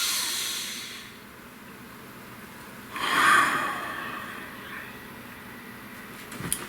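A slow, deep breath is taken during a tarot card reading. First comes a long airy exhale, then a louder, stronger inhale that swells and fades, with quiet room tone around it.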